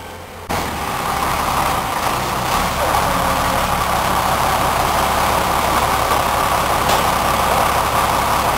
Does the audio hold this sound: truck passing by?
yes